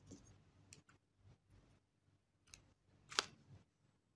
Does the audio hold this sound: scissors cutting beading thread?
yes